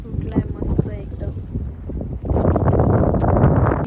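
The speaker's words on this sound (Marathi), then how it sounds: "का सुंदर वारा सुटलाय, मस्त एकदम." Wind gusts in the open under dark clouds before rain, first as light rustling behind a woman's speech, then swelling into a loud, steady roar buffeting the microphone for the second half.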